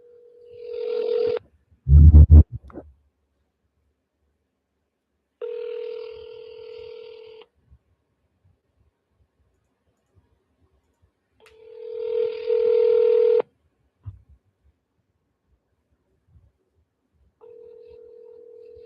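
Telephone line tones: several bursts of a steady electronic tone, each one to two seconds long, separated by long silent gaps, with a single dull thump early on.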